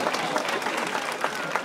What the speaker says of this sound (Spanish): si me gusta regálenle el aplauso